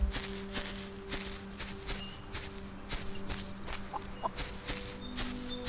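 Chickens cluck softly in the video game Solarpunk, under a steady hum of game ambience with repeated footstep-like taps and a few brief bird calls.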